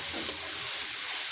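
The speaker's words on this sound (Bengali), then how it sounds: "এবারে চিংড়ি মাছ আর পেঁয়াজ এটা ভাজবো।" Shrimp and onion fry in a hot pan with a steady, loud hiss and sizzle that holds at one level throughout, close and with no voices.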